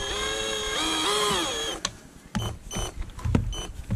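A power drill whirs briefly while removing bolts on a 35 HP Chrysler outboard motor, a short rising whine under two seconds, followed by clicks and handling clatter.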